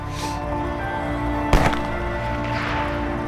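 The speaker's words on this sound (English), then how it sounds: "Through the trees, a distant shot echoed, and Wheeler received a message." A single distant gunshot during a whitetail deer hunt in Saskatchewan woods, one sharp crack midway that echoes briefly through the trees over steady outdoor ambience.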